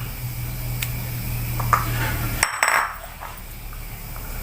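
Dried chilies rattle and scrape as they dry-roast in a hot pan, with metallic clinks and a brief louder toss of sizzling and clattering near the end.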